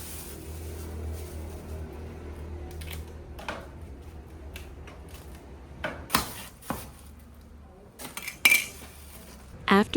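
Meat being mixed in a bowl, with soft squelching and a utensil clinking and knocking against the dish, quiet at first, then a few sharper clatters toward the end, close by with no talking.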